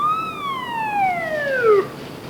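Police car siren in a 1990 French TV drama, a single falling wail gliding steadily downward over about two seconds against a steady background hiss, with no talking.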